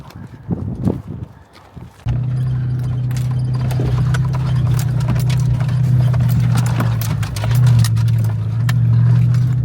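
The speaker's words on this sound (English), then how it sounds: "we're gonna take the TRX, the shop TRX off-roading" A Ram TRX pickup truck drives off-road along a dirt trail, a deep, steady engine drone rising in after a couple of seconds of quieter scuffing and staying loud and close.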